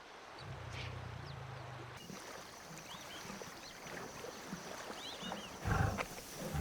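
Lions at a hippopotamus carcass in the Serengeti give a low, rumbling growl early on, then a louder roar near the end, over outdoor ambience with faint bird calls.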